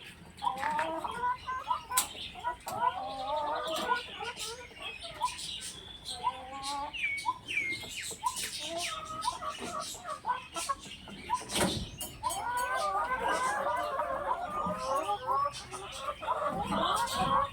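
Egg-laying hens of the 380 breed in a small backyard coop cluck and chatter in short broken calls, with scattered knocks and rattles and a voice talking at times.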